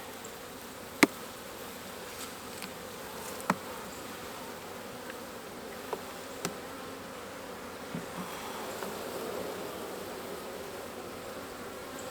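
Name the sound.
honey bees buzzing in an opened Apimaye hive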